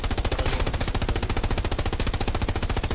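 Rapid, continuous machine-gun fire from gunners in the World War II shooter Hell Let Loose, loud and close with an unbroken rattling rhythm of evenly spaced shots.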